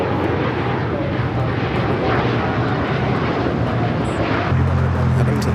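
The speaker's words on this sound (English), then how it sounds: "The Dreamliner now rolling down that 25 at right." A Boeing 787 Dreamliner rolls down runway 25 Right at Los Angeles International Airport, its jet engines a loud, continuous roar that swells toward the end, heard alone without talk.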